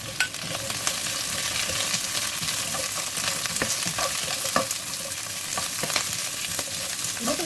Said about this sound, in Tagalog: At igisa muna natin yung ating gulay.